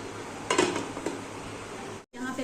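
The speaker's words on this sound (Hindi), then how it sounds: "अब हम इसको ढक देते हैं।" A lid goes onto a cooking pot of chicken for achar gosht with a quick metallic clatter and rattle, followed by low background sizzling and a brief cut to silence.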